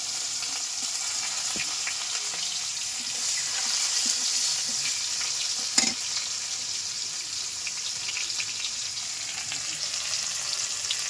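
Chopped onion and green chilli sizzling steadily in a pan over a village clay stove, a continuous bright crackle with a few small clicks and one sharp tap midway, no talking.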